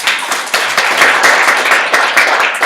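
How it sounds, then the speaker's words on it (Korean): A modest audience at a Docker and Rails deployment lecture claps for the lecturer, with distinct individual hand claps forming a fairly near, loud burst that stays steady without any talk. "김대은님한테 박수 큰 박수"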